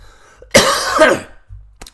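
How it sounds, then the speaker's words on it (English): A single harsh cough bursts out loudly, followed by a short breath and a faint click, with quiet room tone around it. "Making me cough."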